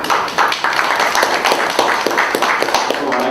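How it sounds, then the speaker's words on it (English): Audience at a brick manufacturers' association meeting claps together in a loud, fairly rhythmic burst of hand claps, close and steady for a few seconds. "we will give a clap for it"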